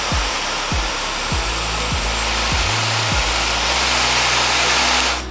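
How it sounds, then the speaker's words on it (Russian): A Remez hair dryer styler blows air in a steady, loud, continuous whoosh lasting several seconds, with a few brief motor pitch dips partway through and a sudden cutoff at the very end. "Сушит фен очень быстро, с моими длинными волосами справляется за 7-8 минут."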